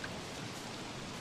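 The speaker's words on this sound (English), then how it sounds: "Is it because it's raining?" Steady rain falls in the survival video game Don't Starve Together, a constant dense hiss with no breaks and no talk.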